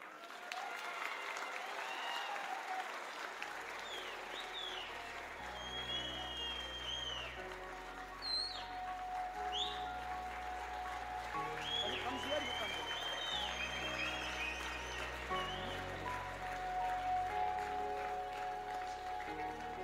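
Audience applause fills the hall at the Minara Sports Icon Awards ceremony in Muscat, Oman: sustained, dense clapping from a large crowd, with a voice and background music running beneath it throughout.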